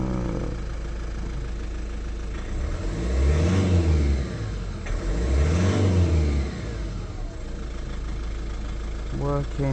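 A Lexus IS220d diesel engine with an EGR fault revs up twice in quick succession, each rise and fall clearly audible over a steady low idle, close by and fairly loud.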